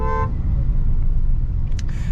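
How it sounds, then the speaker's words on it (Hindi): A brief Hyundai Venue car horn toot at the start, followed by a steady low engine rumble. "क्रेटा के हॉर्न भी दे देते।"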